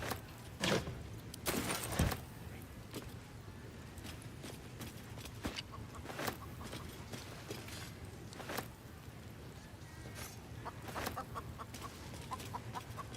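A chicken in Baldur's Gate 3 clucks in scattered short bursts over a low ambient game backdrop, with sharp clicks and footstep-like knocks mixed in and no talk.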